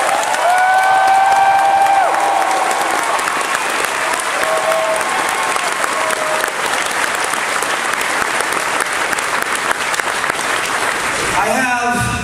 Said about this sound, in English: please give them the thunderous applause you've given to me